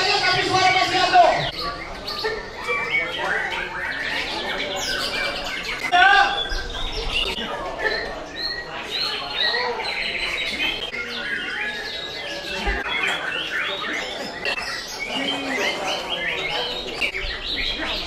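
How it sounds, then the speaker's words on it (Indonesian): Many songbirds chirp and trill without pause at an Indonesian bird song contest, a dense layer of calls mixed with crowd chatter and voices that carry on throughout. "Burung tak banyak, tapi suara masih ada."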